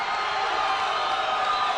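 A cage-fighting crowd keeps up a continuous roar of cheering and whooping, dense and even in level, with no single voice standing out.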